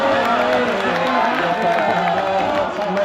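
An audience at a poetry mushaira in Parbhani breaks into lively applause and cheers, loud and sustained, with voices calling out within the clapping.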